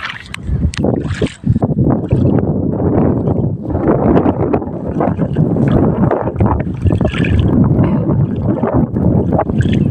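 Strong wind at the seaside buffets the microphone in a constant roaring rush, with gusty surges and a watery, boat-like rumble underneath.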